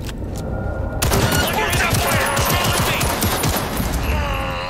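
Rapid gunfire in the video game Cyberpunk 2077, a dense loud burst of repeated shots that runs through nearly the whole stretch after a brief quieter lead-in.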